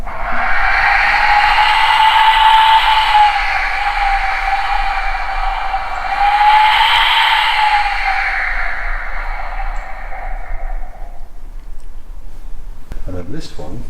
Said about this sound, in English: wind whistle.